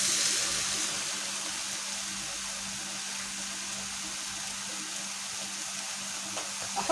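Sausages and peppers sizzle steadily in a frying pan as they are stirred, a constant close hiss running evenly throughout with no talking.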